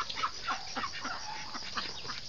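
Backyard ducks (itik) on a small farm give repeated quacking calls in a steady series, fairly close and moderately loud, with no talk over them.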